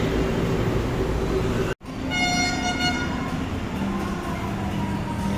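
An LRT light rail train rumbles along loudly during a ride, with a brief dropout and then a sustained horn-like tone over the steady rolling noise.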